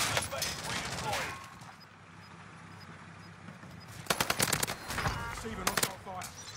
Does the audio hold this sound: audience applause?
no